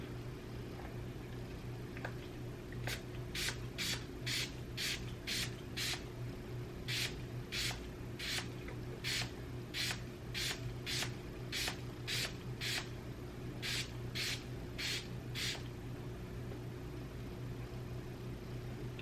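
A series of short sharp bursts of aerosol shoe care spray onto a shoe, about two dozen quick puffs in uneven groups, over a constant low mechanical hum.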